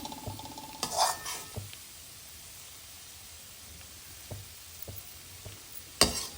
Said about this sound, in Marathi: पीठ लावायचं पुन्हा ढवळायचं पीठ लावायचं पुन्हा ढवळायचं